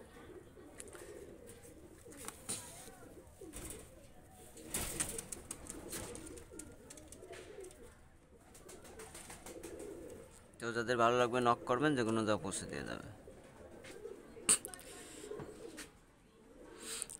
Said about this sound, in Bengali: এই দুটা রানিং কবুতর নিয়ে আসলাম